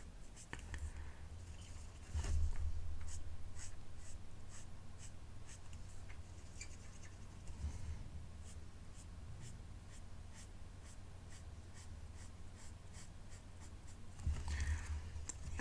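Ink colour being spread and blended on an acrylic block for a DIY pencil case, giving a soft, steady scraping and rubbing texture with a few louder swipes near the start and end, without speech.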